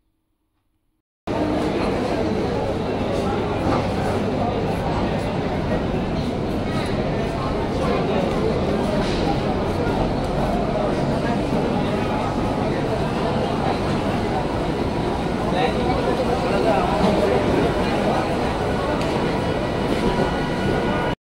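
A train rumbles steadily at Barasat railway station on a crowded platform, its loud, continuous noise holding at a constant level for about twenty seconds after a short silent start, with faint crowd babble mixed in.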